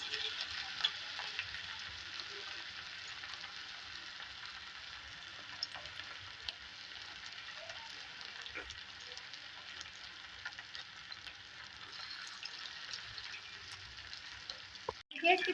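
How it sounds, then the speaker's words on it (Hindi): Marinated fish fries in oil in a pan for a Karachi-style fish fry, giving a soft, steady sizzle and crackle throughout, with a faint clatter near the end. "इसमें फिश मैरिनेट की हुई फ्राई करेंगे"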